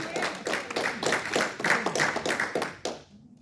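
A church congregation claps together during an evening service, a loose, uneven run of hand claps lasting about three seconds before stopping abruptly, with a voice mixed in.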